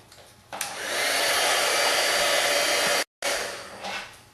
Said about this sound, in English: I'm going to come in with the heating stick and get that on there, and then we're going to heat it